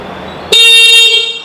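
A Kubera Motors electric scooter in a Guntur showroom sounds its horn once: a single loud, close, steady honk lasting about a second after a brief quiet lead-in.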